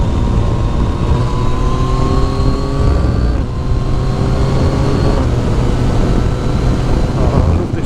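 Motorcycle engine heard from a rider's helmet on a test ride, loud and steady with rising revs and brief breaks in pitch around three and five seconds as gears change with a quick shifter, wind noise constant throughout.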